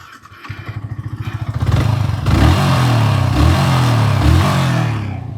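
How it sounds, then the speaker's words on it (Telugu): A sports motorcycle engine cranks and catches, then settles into a loud, steady, throaty idle close by, with a slight rise in revs along the way. "ఈ 2 బైక్స్ బీట్ అయితే ఒకసారి చెక్ చేద్దాం స్టార్ట్ చేసి"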